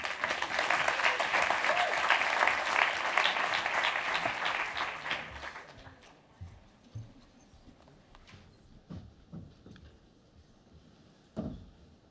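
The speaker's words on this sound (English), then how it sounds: "please give a round of applause for Boris Nikolov" Round of applause from a conference audience at the E4S Annual Summit 2024 as a speaker is introduced; dense clapping for about five seconds fades out, leaving a quiet room with scattered thumps and small sounds.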